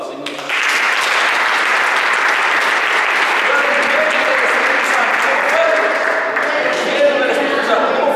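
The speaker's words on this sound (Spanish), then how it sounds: "Démosle un aplauso al Señor." A church congregation breaks into loud, sustained applause during a sermon, the clapping swelling in after a brief pause and continuing as a thick, even roar, with voices faintly mixed in.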